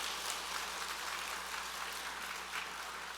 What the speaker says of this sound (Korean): 우리 오늘 태국에서 10명 왔는데 박수 한번 쳐주세요.